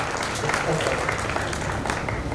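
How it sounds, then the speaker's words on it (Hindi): Steady applause from a crowd at a talent award ceremony in Barwani, India, fills the whole moment, dense clapping without pause. "एक बार माजिद सर के लिए जोरदार ताली बजा दें।"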